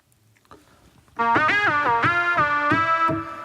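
After a faint start, a bright resonant Studiologic Sledge synth note through a bandpass filter enters abruptly and pulses through a few rhythmic retriggers with a sweeping, nasal, harsh filtered edge.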